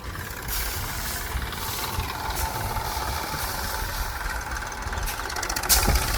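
A tractor engine runs in a farm field, a steady close rumbling drone with constant vibration and a slight rise in intensity near the end, no talk.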